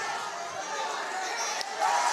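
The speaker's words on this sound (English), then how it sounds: "Crowd is hype." A lively crowd at a high school regional wrestling qualifier tournament, cheering and chattering in a steady roar that rises slightly toward the end.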